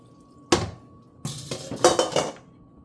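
Metal clatter of a lid set onto a cooking pot of mung beans with spinach, one sharp clink followed by a longer rattling series of knocks as it settles, with a faint steady hum underneath.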